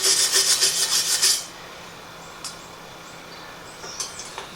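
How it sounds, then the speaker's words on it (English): Steel wire brush scrubbing a 55-gallon steel drum before welding, a run of rapid raspy strokes for about a second, then near silence with faint scattered clicks. "Steel brush it before we can do the rest of the welding."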